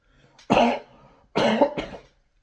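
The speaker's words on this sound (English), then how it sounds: "Sorry, I need to cough." Two harsh, close coughs, one after a half-second of quiet and a second double cough about a second later, then silence.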